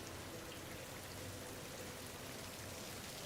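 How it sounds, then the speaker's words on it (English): Steady, soft ambient rain, an even hiss of falling drops with no breaks or other sounds, quiet and uniform from start to finish. "Nice chill rain mode."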